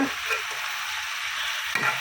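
Chicken frying in a pan with ginger-onion paste, garlic paste and a little chilli, coriander and cumin powder gives a loud, steady, close-up sizzle that runs without a break, with no voices.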